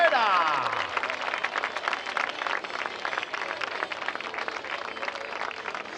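An outdoor crowd at an international 10K race walking awards ceremony in A Coruña applauds the third-place finisher, a dense patter of clapping that continues under an announcer's voice.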